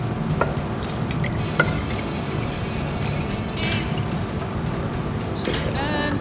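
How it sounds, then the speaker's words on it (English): Water is poured into a container partway full for an experiment with magnets and iron powder, a soft, close trickle with faint drips over a steady room background. "So first, we will pour some water into here, but not all the way."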